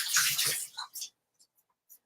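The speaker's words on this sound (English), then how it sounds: "I'm going to wash them off and I'm going to dry them really well just in case" Water running over rosemary sprigs as they are rinsed at a sink, a close, steady splashing hiss that cuts off after about a second, followed by a few faint drips and small clinks.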